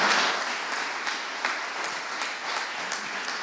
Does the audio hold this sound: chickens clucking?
no